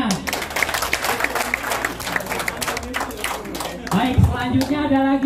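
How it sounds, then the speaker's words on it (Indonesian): A group in a community training session clapping together, a busy patter of hands at steady level that breaks off near the end as voices and laughter take over. "tepuk tangan semuanya"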